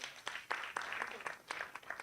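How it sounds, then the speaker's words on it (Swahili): An audience at an education talk gives a short round of faint applause, with scattered claps heard at a distance. "Tumpigie makofi."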